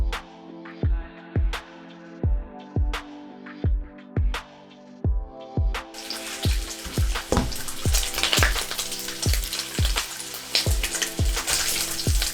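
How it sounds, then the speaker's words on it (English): Bacon from a whole package sizzles in a frying pan, a bright steady hiss that swells in about halfway through, under a repeating plucked musical pattern that continues throughout. "while that bacon was cooking"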